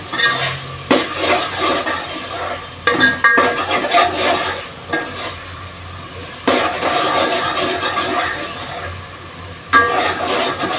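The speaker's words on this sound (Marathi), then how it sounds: "लाल तिखट घालू मसाला चांगला फ्राय करून घेऊ" Prawn masala with turmeric and red chili powder frying in a pan, a steady close sizzle broken by bursts of scraping stirs, with no talk.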